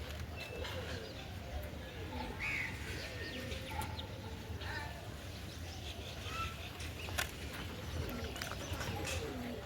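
Soft pigeon cooing in the distance amid quiet outdoor ambience, with faint chirps and occasional taps.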